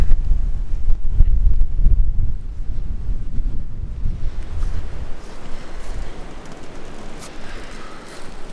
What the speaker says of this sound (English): It's pretty windy though. I don't know if you can hear it on the mic,